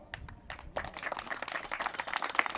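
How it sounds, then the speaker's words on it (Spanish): Applause for a team member at the opening presentation of the Guerreros de la Huerta and Coyotes de Garzones teams: a crowd claps in a steady patter that swells after a brief lull, moderately loud and without talk. "a la compañera también un fuerte y caluroso aplauso"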